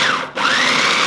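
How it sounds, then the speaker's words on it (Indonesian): An electric blender grinds raw chili peppers for sambal with a loud, steady whir that briefly dips and then revs back up. "Blender dulu."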